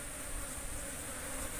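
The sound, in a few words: small Apis cerana bees buzzing in hive box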